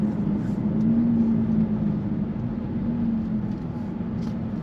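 A steady, deep engine rumble from the aftermarket exhaust of a Jaguar F-Type convertible (X152), a low droning note holding throughout at an even, fairly loud level.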